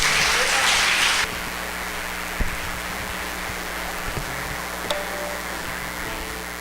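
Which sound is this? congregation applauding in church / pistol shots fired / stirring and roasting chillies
congregation applauding in church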